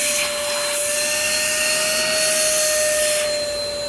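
A 2010 Sanitare Multi-Pro commercial upright vacuum cleaner runs continuously up close. Its motor gives a loud, steady whine with a high tonal hum, and the airflow surges slightly from moment to moment.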